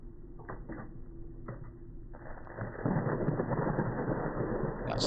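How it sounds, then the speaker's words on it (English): Thunder rumbles and heavy rain pours in the weather of the video game The Last Letter. A low roll swells, then a dense downpour takes over and stays loud and steady, with no talk over it. "That's thunder."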